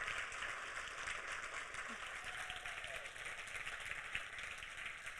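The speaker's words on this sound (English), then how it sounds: "Keep it going, y'all. Like clapping, woo, cheering is great." An audience at an environmental stewardship awards ceremony keeps up dense, steady applause with some cheering, a continuous wash of clapping heard from within the crowd.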